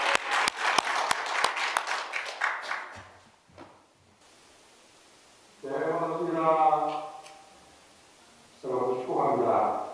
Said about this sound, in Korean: 우리 뜨거운 격려의 박수로 맞이하겠습니다.